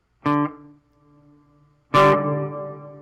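Two plucked electric guitar chords through an amplifier's reverb channel, the first ringing out and lingering in a soft tail, the second struck louder and sustaining with a wash of reverberation.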